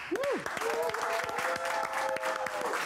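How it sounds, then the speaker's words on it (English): A television studio audience applauds a guest on an afternoon talk show, bright clapping mixed with whoops and cheering voices throughout. "I want us to give us a round of applause, Clem, you too, for Menzi"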